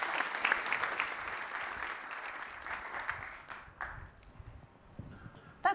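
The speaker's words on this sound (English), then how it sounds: "Please give Darren and Shannon a big round of applause." A conference audience at a security event claps for two speakers. The applause is soft and steady, thins out after about four seconds and trails into quiet.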